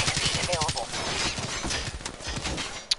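Rapid video-game gunfire in a shooter mission, a quick burst of sharp cracks that stops as the gun runs dry, with voices talking over and around it.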